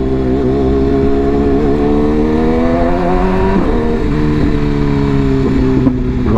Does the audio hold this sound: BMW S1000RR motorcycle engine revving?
yes